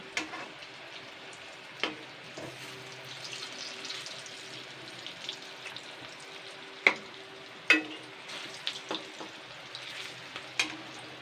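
Fish roe frying in hot oil with steady sizzling, a constant crackle and a few sharp clicks of a utensil against the pan.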